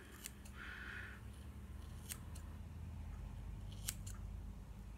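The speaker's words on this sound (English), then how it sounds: "And these scissors are a little bit on the dull side." A slightly dull pair of scissors snipping through hair during a home haircut, a few sharp, quiet crisp snips spaced apart over a soft, steady background hiss.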